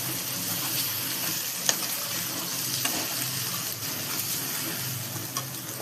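Garam masala and spices frying in a pan, a constant soft sizzle with occasional light clicks of stirring and mixing, close but quiet, no voices.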